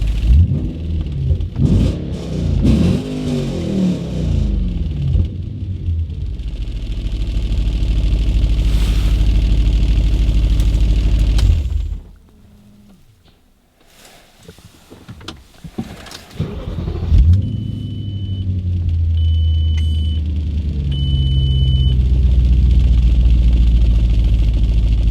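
An Audi B7 RS4 with a check-engine fault idles with a steady low rumble, swells into several revs, dips briefly near the middle, then returns to a loud idle with a high electronic beep repeating in short bursts.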